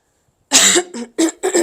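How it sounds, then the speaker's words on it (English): A short burst of several loud, close coughs in quick succession, with brief gaps between them. "Excuse me, my morning cough."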